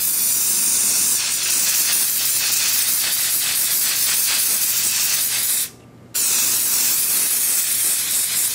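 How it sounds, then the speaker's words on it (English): Loctite spray adhesive hisses from an aerosol can while coating gasket material, a loud, continuous close-up spray that cuts out for about half a second and then resumes. "What I'm going to use is this Loctite spray adhesive."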